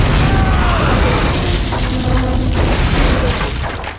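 An explosive charge blasts through two floors of a building during a heist movie vault robbery, a loud, sustained rumbling boom with debris crashing, filling the whole stretch before tailing off slightly at the end.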